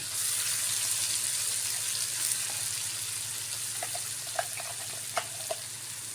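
Onion, garlic, green chili and chepa shutki paste frying in oil in a kadai, a steady close sizzle throughout with a few soft clinks and stirring taps near the end.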